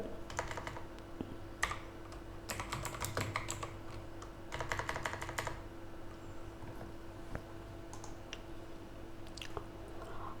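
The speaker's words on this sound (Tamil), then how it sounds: "AIMB டைப் பண்ணிவிட்டு பிளேயர்னு டைப் பண்ணிக்கிறங்க" Typing on a computer keyboard, close and fairly quiet, in several quick bursts of rapid key clicks separated by pauses and a few single taps, over a steady low electrical hum.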